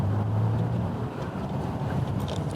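Heavy wind buffets the microphone while riding a brand-new Honda Super Cub C125 motorcycle. The low rumble and roar is steady and loud throughout, with an engine hum underneath and no talk.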